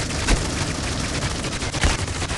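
Gunfire in the tactical shooter C-OPS during a competitive esports match, a dense stream of shots with two sharper, louder bursts standing out over steady game noise.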